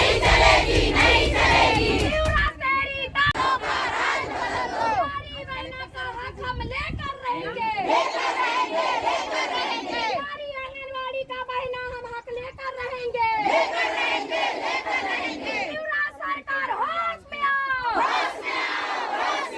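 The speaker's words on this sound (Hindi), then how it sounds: "ये नारेबाजी चलती रही।" Striking women workers at a district collectorate chant slogans together in a loud, continuous crowd roar, with rhythmic shouted phrases repeating in waves throughout.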